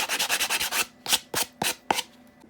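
Painted wood edges being sanded by hand give a rapid run of close, rough rubbing strokes, then four or five slower separate strokes with short pauses between them.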